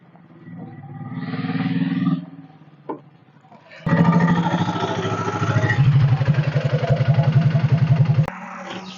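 An auto rickshaw pulls up with a loud, rattling, chugging engine that keeps idling close by for several seconds, after a quieter engine-like rumble and a brief knock at the start.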